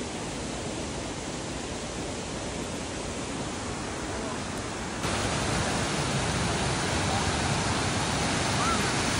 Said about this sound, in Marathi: धबधब्याच्या पाण्याचा आवाज स्पष्टपणे आपल्याला ऐकू येतो।